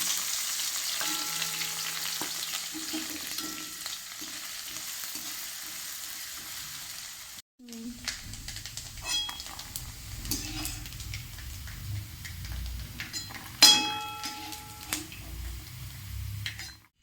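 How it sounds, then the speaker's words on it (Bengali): Coconut pieces frying in hot oil make a continuous close sizzle, with occasional clinks and scrapes of a utensil against the pan and a brief break partway through. "এই তেলেই আমি নারকেলগুলো কিছুটা ভেজে তুলে নেব।"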